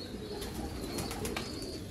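Chuhay pigeons kept in a loft in Sialkot coo softly, with light wing flutters among a steady background hum, nobody speaking.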